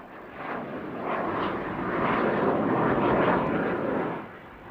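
An aeroplane flies at the 1987 International Air Tattoo at RAF Fairford, its engine drone swelling steadily to a broad roar as it passes and then easing off, with no talk over it.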